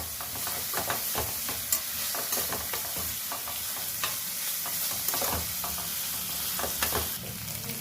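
Onions frying with ginger garlic paste in a pan for a village-style okra and tomato curry, a steady close sizzle with repeated stirring scrapes throughout, no voices.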